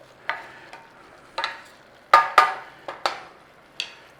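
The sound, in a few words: vegetables frying and being stirred in a pan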